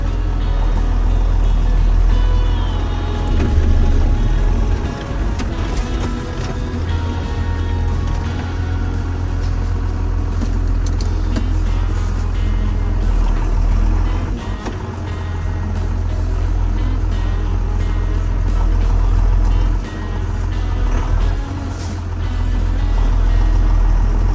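A used tractor pulling away in top gear gives a loud, steady, low diesel rumble that fills the whole stretch close up, with no voices over it.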